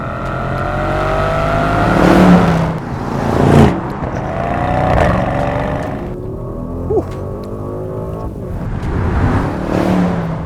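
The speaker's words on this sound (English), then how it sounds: "It's a 4-litre, 612 horsepower engine under the hood. And yes, even in this heavy SUV, it can really lay down the power." A 2021 Mercedes-AMG GLE 63 S Coupe, a heavy SUV with a 4-litre 612-horsepower engine, accelerates hard through several rising pulls and gear changes. The engine sounds loud and close, with no talking.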